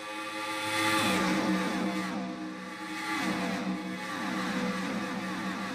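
Engines of race cars in a stock-car racing video game roar steadily as they speed around the track, rising and falling in pitch as the cars pass close by, with no talk over them.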